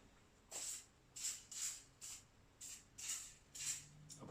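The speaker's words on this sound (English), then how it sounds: "I'm just going to spray" Short hissy spray bursts inside an Anko four-pie maker from Kmart, about eight quick puffs in an irregular rhythm, close and fairly quiet, with no talking.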